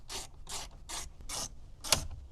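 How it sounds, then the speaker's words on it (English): 7mm ratchet removing bolts inside the dash of a 2014-2018 Chevrolet Silverado, five close, quiet bursts of clicking pawl strokes at an even rhythm, the last one sharper, with no talking. "I have a 7mm ratchet."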